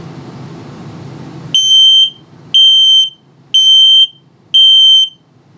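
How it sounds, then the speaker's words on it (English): Loud, close electronic beeps from a Jayco Greyhawk RV detector's low battery alarm, four shrill half-second pulses spaced about a second apart, following a stretch of low humming background. "and then the low battery alarm."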